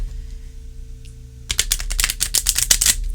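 A rapid burst of crisp clicking and flapping as new, stiff tarot cards are riffled, starting abruptly after a quiet moment with a low hum underneath.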